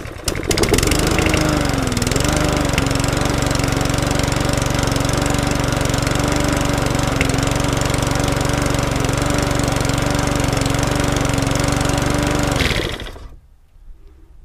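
Petrol lawn mower engine, sold from a mower dealer's yard, runs loud and close, its speed hunting briefly at first before settling into a steady idle, then cutting out near the end.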